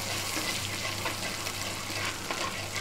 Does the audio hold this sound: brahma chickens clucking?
no